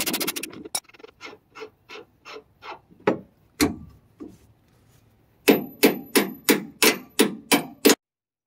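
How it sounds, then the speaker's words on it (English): The head of a bolt is cut off by hand during a truck lowering kit install: a close series of evenly spaced rasping strokes, about a dozen, pausing briefly and then resuming louder and faster. "we actually need to cut the head of this bolt off in order to remove it"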